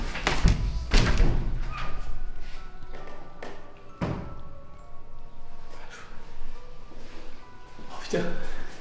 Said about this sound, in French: On va fermer la porte